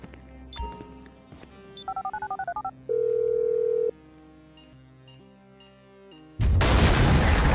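A phone call is dialed in the video game GTA V, with a rapid string of keypad tones, then a steady dial tone and ringing tones. A loud burst of noise cuts in near the end.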